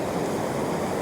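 A small waterfall at Coupall Falls in Glencoe pours with a dense, steady rushing roar, close and unbroken, with no voices over it.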